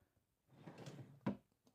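A stationery drawer in a sewing room slides open with a soft rolling rumble, then stops with a single muffled knock, faint and close, with no talking.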